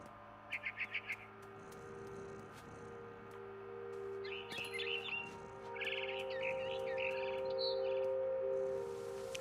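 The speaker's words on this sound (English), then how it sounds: "Then I heard chirping outside my window." Barn swallows chirp in short bursts in the video game What Remains of Edith Finch, a quick trill early and scattered tweets later, over a steady humming background with tonal drones.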